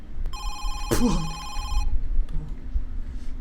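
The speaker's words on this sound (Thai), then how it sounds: "โทรศัพท์ใครดังอยู่" Electronic phone ring in the horror game Home Sweet Home, one steady ringing tone lasting about a second and a half, cut by a sudden thump, with murmuring voices under it.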